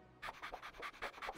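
A cartoon dog pants in quick, rhythmic huffs, about a dozen short breathy bursts close up, heard alone.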